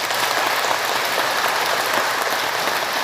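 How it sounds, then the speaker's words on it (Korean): Congregation applause after a Catholic Mass homily: dense, even clapping from many hands, steady and fairly loud throughout, with a hiss like rain and no talking over it. "박수 한번 칩시다."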